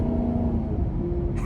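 A Maserati GranTurismo MC engine and exhaust hold a deep, steady rumbling drone, close and fairly loud, with a low tonal hum and no speech.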